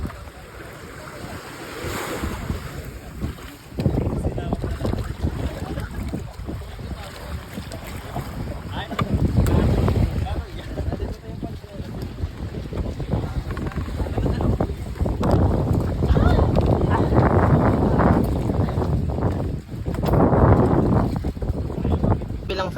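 Boat motoring across open sea toward a cove, with steady engine drone, wind buffeting the microphone and waves splashing against the hull throughout, rising in surges as people talk nearby.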